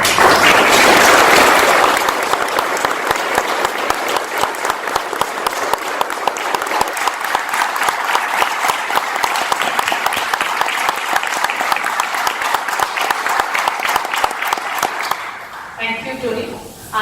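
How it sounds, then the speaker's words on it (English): An audience at a mind-mapping event in a Mumbai hotel bursts into sustained applause, with loud cheering at the start and then steady rhythmic clapping that stops abruptly near the end. "India's just won the World Cup and now we applaud."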